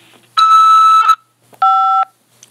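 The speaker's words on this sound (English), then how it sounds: "After the beep," Two clear electronic beeps from a corrections facility phone system prompting to accept a call, each about three-quarters of a second long with a short gap between, loud and alone with no talk.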